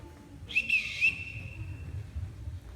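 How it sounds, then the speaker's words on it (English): A whistle blown to summon household staff, sounding two or three sharp piercing blasts close by, each followed by a long fading trail, with no talking. "Everybody in this house answers to a whistle."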